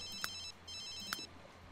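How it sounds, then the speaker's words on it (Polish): In The Sims 3, a phone rings in two close electronic bursts, clear and alone over a quiet background. "O, kto to dzwoni teraz?"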